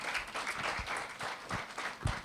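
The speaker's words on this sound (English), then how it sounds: "A round of applause" An audience at a STEM festival launch event applauds, a faint, somewhat distant patter of clapping with a few sharper, nearer claps standing out.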